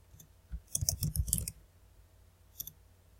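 Keys on a computer keyboard clatter quietly in a quick burst of clicks, then a brief pause before a final pair of taps. The typing is close but soft, with no speech.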